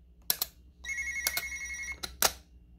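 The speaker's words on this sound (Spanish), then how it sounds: "vamos a simular que están timbrando" A Hikvision video intercom doorbell rings in a steady electronic tone lasting about a second, set between a few sharp clicks, with no voices.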